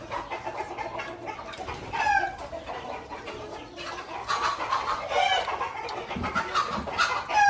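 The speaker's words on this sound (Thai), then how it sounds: "โอ้ไก่" Chickens clucking repeatedly at moderate distance, with a few louder squawks and a crow-like call among them, fairly faint overall and with no talking over it.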